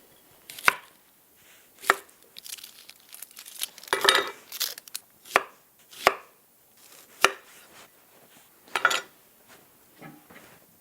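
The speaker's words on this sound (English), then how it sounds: "So yes, cut up the onions." A knife chopping onions on a cutting board for a burger, with about ten separate sharp chops at uneven intervals, close and clear with quiet gaps between them.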